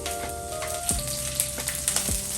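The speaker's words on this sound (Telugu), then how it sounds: "ఇలాగ వేయించిన దాంట్లో మనం ఉల్లిపాయ ముక్కలు వేసుకోవాలి." Onion pieces dropped into hot oil with fried garlic and ginger, a bright steady sizzle with a few stirring knocks and scrapes against the pan.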